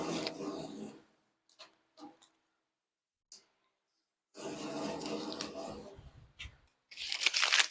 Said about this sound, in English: let's put this lid back down and let's remove this tape